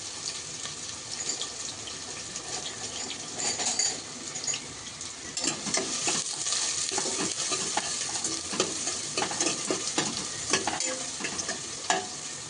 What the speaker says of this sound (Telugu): అవి చక్కగా గోల్డెన్ రంగు వచ్చే వరకు వేయించుకోవాలండి